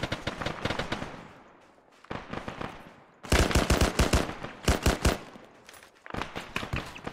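Rapid bursts of automatic gunfire in the Cold War era military game ARMA, clustered volleys separated by short pauses, loud and close with sharp repeated cracks.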